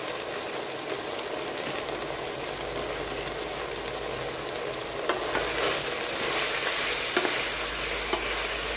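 Afghan Kabul pulao cooking in a pot, being stirred: a dense, continuous sizzle and hiss with scraping stirring sounds throughout, growing slightly louder and brighter toward the end, no talk.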